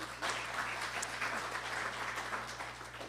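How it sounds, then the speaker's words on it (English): Audience applause for the judges at an innovation and entrepreneurship challenge, a steady wash of many hands clapping in a hall, moderately loud and even throughout with a low hum beneath. "Huge applause to you."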